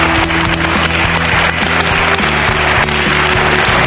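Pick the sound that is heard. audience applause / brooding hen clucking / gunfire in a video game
audience applause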